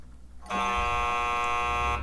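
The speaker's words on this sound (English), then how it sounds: "now it sounds the buzzer and displays the text that says sorry about that" A loud, sustained electronic buzzer from the Disney Infinity 3.0 video game blares steadily for about a second and a half, starting abruptly after near silence and cutting off at the end.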